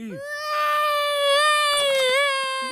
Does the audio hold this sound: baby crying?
yes